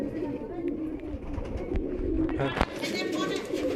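Soft, low pigeon cooing murmurs beneath a busy, noisy background, with a brief sharp knock near the end.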